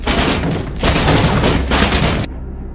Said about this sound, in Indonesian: terjadi baku tembak dengan Henrik